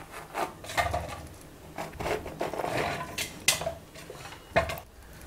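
A knife cuts through a peeled bottle gourd on a board in a home kitchen, giving about six soft separate chopping knocks at an uneven pace, faint and close.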